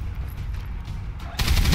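A loud burst of gunfire in XCOM 2 bursts in after a quieter stretch of background noise, sharp and close.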